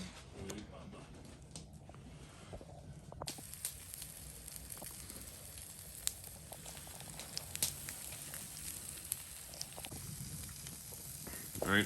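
Bacon grilled cheese sandwiches frying in a pan on a backcountry wood stove at a mountain lake, a soft, steady sizzle with faint crackles and pops, heard low and close without talk.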